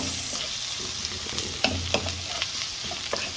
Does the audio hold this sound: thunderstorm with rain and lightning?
no